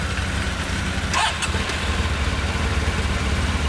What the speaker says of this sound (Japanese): T-MAX エンジン音お願いできますか。